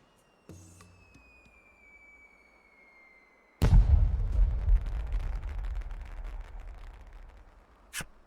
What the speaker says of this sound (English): The fireworks are only briefly visible in the bright light of day.